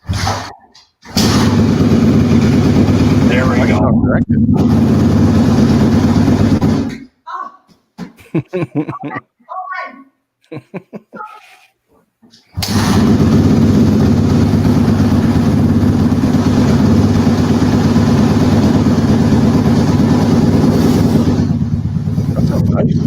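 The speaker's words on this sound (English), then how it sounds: "Okay, now kick the bike over." Four-stroke motorcycle kicked over and catching, a loud, steady idle close by with a throaty exhaust, briefly cut off before restarting and settling into a continuous rumble, with voices speaking over it.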